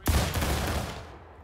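Musket volley fired on command in the Civil War game War of Rights: one loud, sharp ragged crack of many muskets at once, rolling and fading over about a second with no talk.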